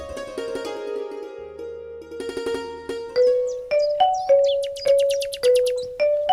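A phone ringtone plays a bright, tinkling melody of repeated electronic tones, close and clear, with no talking.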